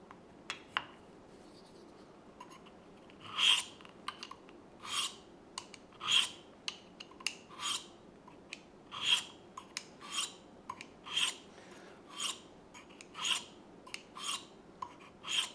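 Rasping strokes of an Opinel knife blade drawn along fine ceramic sharpening sticks, about a dozen brisk, evenly spaced scrapes close up with no talking.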